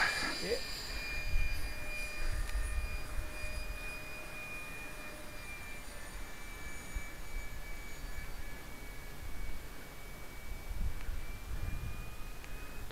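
Steady jet engine roar with a faint high whine, constant and fairly distant, holding at an even level throughout.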